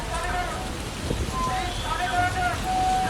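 Heavy rain and strong wind from Cyclone Remal in West Bengal make a dense, steady roar, with faint tonal whines and someone talking over it.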